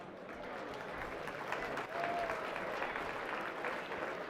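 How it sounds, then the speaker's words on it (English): Sustained audience applause at a charity auction fills the room steadily, a dense wash of many hands clapping at close to moderate distance with no break. "Give them a round of applause."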